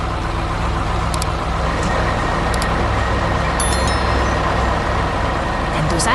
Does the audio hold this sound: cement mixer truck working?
yes